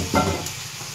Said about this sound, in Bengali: তো একটু ভালো করে ভেজে নিই লাল লাল করে